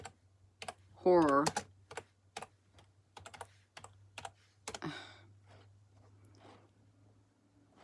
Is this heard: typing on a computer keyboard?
yes